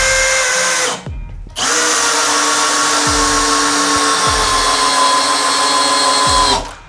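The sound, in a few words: Bosch GSB 185-LI cordless drill driver driving screws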